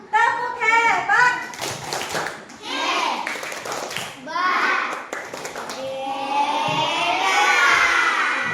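A group in a classroom session claps a rhythmic cheer clap in short bursts, mixed with children's shouting voices and people talking throughout.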